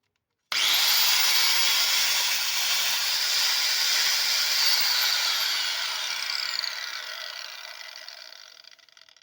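A loud, steady high-pitched whine of an angle grinder under repair, spinning with part of its housing removed, running alone for several seconds before starting to wind down.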